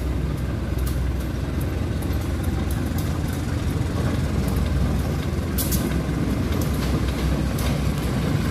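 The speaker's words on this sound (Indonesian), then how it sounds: "Kereta api lokal Bandung Raya diberangkatkan dari stasiun" A Bandung Raya local train pulls out of the station, its steady broadband rumble and rolling wheel noise continuous and fairly loud throughout, with faint hissing and brief higher-pitched squeals near the end.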